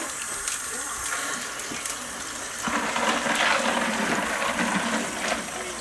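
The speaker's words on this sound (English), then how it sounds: "We're going to put some cold water in there" Cold water poured into a red bowl holding ice, used to firm up homemade butter; a steady splashing pour swells midway and runs continuously for several seconds, close by, with no talk.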